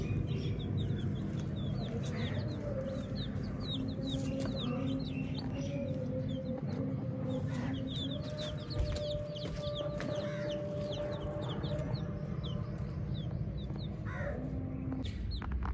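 Small chicks and grown chickens cluck and cheep together on open soil, with continuous busy peeping and overlapping calls close by throughout and no talking.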